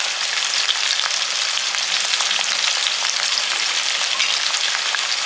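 Garlic cloves and green chillies fry in a pan with a steady, dense sizzle and crackle that runs evenly throughout, close and fairly loud, with no voices.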